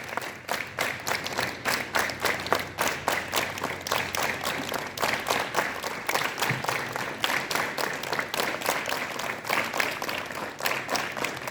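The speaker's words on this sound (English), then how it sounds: "Clap together." Students at a school morning assembly clap together in unison, a steady rhythmic series of sharp group claps running throughout without pause.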